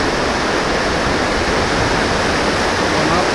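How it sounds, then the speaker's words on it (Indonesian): Big ocean waves crash and roar on a southern Cianjur beach, a loud, continuous wash of surf filling the whole stretch with no breaks, close and steady. "Ini ombaknya gede guys."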